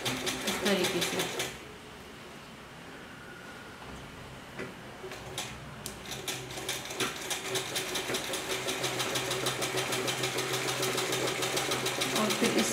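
A sewing machine runs steadily, stitching the waistband casing of a cloth dhoti salwar, with a fast continuous mechanical ticking that builds from about two seconds to the end.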